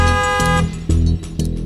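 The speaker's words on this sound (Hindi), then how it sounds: "ड्राइवर हॉर्न दे रहा है" A car horn sounds in a few short honks, one sustained blare, then shorter toots, loud and close, with no talking over them.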